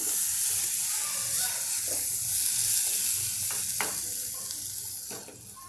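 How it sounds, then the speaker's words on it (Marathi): Water is poured into a pressure cooker holding spiced ivy gourd rice. It gives a steady hiss with a sizzle, moderately close, and a few scraping clinks over the top. The sound fades slightly toward the end. "यामध्ये मी पाणी टाकते भाताच्या अंदाजाने"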